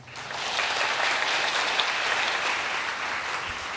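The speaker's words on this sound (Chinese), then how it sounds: "我们鼓掌来欢迎他" A church congregation claps steadily for a few seconds to welcome a speaker, a dense, even wash of applause that swells in and holds.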